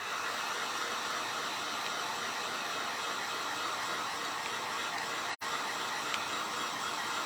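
A hair dryer blows steadily to dry paint on a wooden pumpkin, a continuous close whooshing hum with one brief cut-out near the end.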